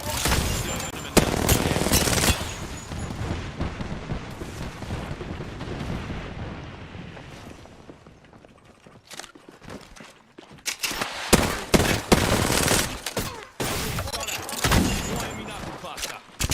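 Rapid automatic gunfire and bursts from an Apex Legends match, loud clustered volleys at the start, easing into a quieter rumbling stretch, then sharp repeated shots returning toward the end, with a voice talking over parts of it.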